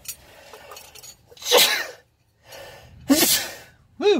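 Two sharp, loud sneezes burst out about a second and a half apart outdoors, separated by quiet breathing, with a vocal exclamation rising at the end.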